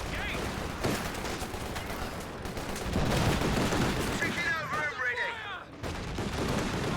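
Artillery barrage and gunfire from a video game tournament quarterfinal match: dense, continuous rumbling blasts and rattling shots fill the whole stretch, with a commentator talking over the battle noise.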